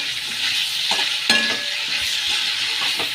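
Capsicum and mushroom pieces being stir-fried in a pan for chilli mushroom, with a steady close sizzle, a few soft stirring scrapes and one sharper clink of a utensil partway through.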